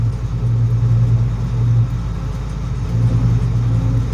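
Steady, loud engine drone of a Palesse 812 combine harvester running, heard from the cab as a continuous low rumble with a humming tone that swells and eases slightly.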